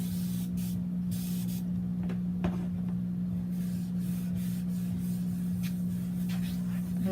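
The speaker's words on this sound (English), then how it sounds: "Spray my table up." Cleaner spritzed onto a crafting table in short, soft hissing bursts over a steady low electrical hum, with faint rubbing between sprays.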